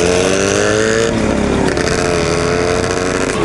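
An IZh motorcycle, raced against an Irbis, rides back nearby with a loud, continuous engine drone. The pitch slides and wavers as it moves.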